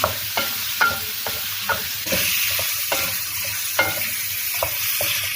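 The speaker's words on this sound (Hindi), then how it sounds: "चिकन को अच्छी तरह फ्राई करेंगे।" Half a kilo of chicken frying in a pan, a loud steady sizzle with repeated rhythmic scrapes and stirs of a spatula every half second or so, close up.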